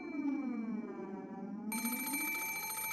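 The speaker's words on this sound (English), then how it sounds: "There was a phone on the bedside table across from the one with the doll, and it was ringing noisily." A telephone ringing in the video game Umineko no Naku Koro ni: a steady, shrill bell ring that sounds alone for the whole stretch, joined near the end by a brighter, buzzing layer.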